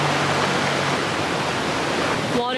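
Broadband wash of surf at a beach at night in Phuket, Thailand, a steady close rush of splashing waves filling the whole stretch, with a brief voice near the end.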